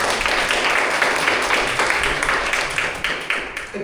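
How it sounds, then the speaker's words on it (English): A round of applause at a Toastmasters club meeting in August 2025, with dense, steady clapping from a room of people filling the whole stretch at close range and loud volume. "One more round of applause."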